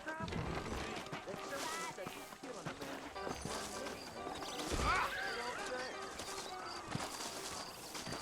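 Saddled horses' hooves clop steadily on hard ground beneath people talking in the video game Red Dead Redemption, with a horse briefly snorting or whinnying midway.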